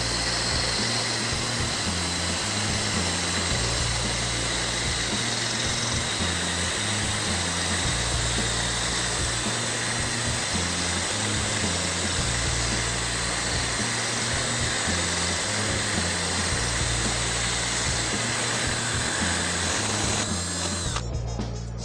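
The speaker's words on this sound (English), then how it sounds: "we've drilled a hole through a bottle of wine" A power drill fitted with a core bit bores through a glass wine bottle, giving a loud, steady, unbroken whine with a throbbing low drone that runs for the whole stretch, with no talking.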